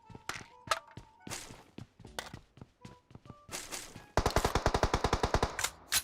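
Gunfire in the mobile shooter game PUBG Mobile starts with scattered single shots and footsteps, then turns into a loud, rapid automatic burst of evenly spaced shots near the end, with no voices.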